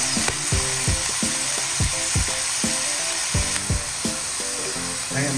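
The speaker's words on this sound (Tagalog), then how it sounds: "ginigisa na po natin siya sa patis" Vegetables and tomato sauté in fish sauce in a pan, a loud, steady sizzle and crackle broken by rhythmic scraping strokes of stirring, heard close and without talk.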